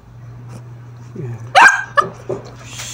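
A puppy barks in a few sharp yips at close range, mid-clip, over a steady low hum, during a visit in Isabela Province.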